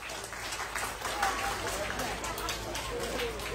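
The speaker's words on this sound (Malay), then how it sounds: "Satu tepukan gemuruh untuk beliau." A crowd applauds at an evening gathering in honor of a guest, with a diffuse, moderately loud patter of clapping and chatter mixed through it.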